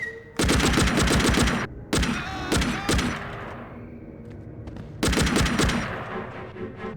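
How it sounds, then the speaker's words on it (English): Machine gun fire in the video game Hitman Contracts comes in long, loud, rapid bursts with a few single heavy shots and thuds between them, followed by a fading echo before the firing resumes. "that's a machine gun"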